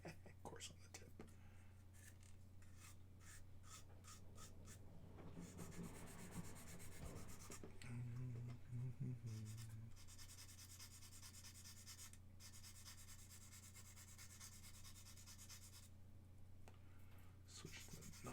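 Coarse sandpaper rasps against the tip of a 1/48 mega size Gundam RX-78 model part in repeated quick strokes, faint and close, with a low steady hum in the background and a voice speaking briefly.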